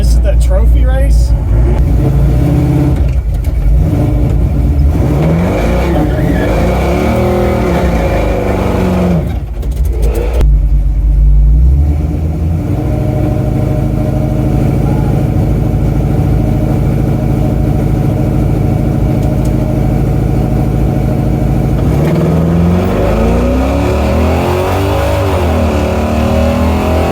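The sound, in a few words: carbureted race car running in trophy race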